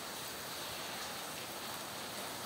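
Heavy rain pouring down outside near a forge, a dense, even wash of hiss that stays constant and fairly loud for the whole stretch with no talking.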